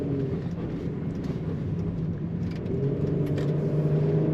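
A 2003 Chevrolet Monte Carlo SS with an automatic transmission revs its engine on a chilly Minnesota day. A steady, close, throaty rumble swells slightly toward the end.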